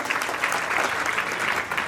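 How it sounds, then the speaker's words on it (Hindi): Loud, continuous applause from a crowd at an award ceremony for meritorious students, honoring a second-rank winner, dense clapping throughout with a faint voice beneath. "जोरदार तालियां संजीव के लिए"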